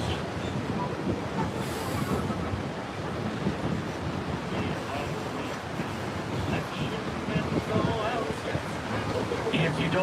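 A Colorado tourist train near Georgetown and Devil's Gate rumbles along the track with steady rolling noise and wind buffeting the microphone, while a voice talks over it.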